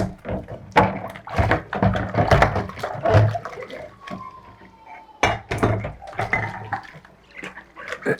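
Dishes washed by hand in warm water in a home kitchen: repeated clinks and knocks of crockery, splashing and sloshing in an uneven rhythm, close and fairly loud, with no talking.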